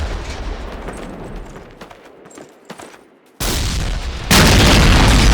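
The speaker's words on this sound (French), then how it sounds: "Ce canon va exploser!" Loud bursts of gunfire and booms in Call of Duty 1, building to a sudden heavy explosion of a cannon that swells into a sustained roar.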